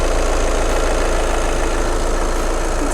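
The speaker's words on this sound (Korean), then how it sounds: "엔진 소리 일정합니다." A Volkswagen Beetle 2.0 TDI diesel engine idles steadily up close, a loud constant rumble with even low-pitched pulsing and no voices.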